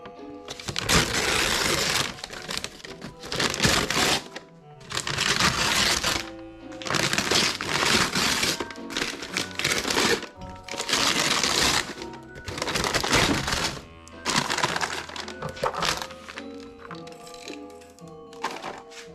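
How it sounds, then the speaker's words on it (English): Wrapping paper and packaging around a Christmas present containing a VMAX supercharger for a Classic Mini are torn and crinkled in repeated loud bursts, with short pauses between tearing spells. "Let's do some unwrapping."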